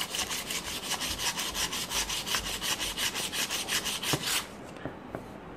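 Sandpaper rubs an M-seal craft piece smooth in steady, rapid back-and-forth strokes, close and scratchy, then stops abruptly near the end.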